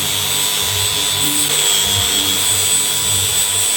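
A power drill bores through the wooden handle of a hand-forged Viking axe, a steady continuous whine with rhythmic low pulsing as the bit presses in, close and fairly loud with no talking.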